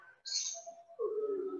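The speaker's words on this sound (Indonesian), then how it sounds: "Mana ada suara burung nggak fokus." A bird calls nearby, giving a single high chirp and then a lower drawn-out cooing note, clear against a quiet background.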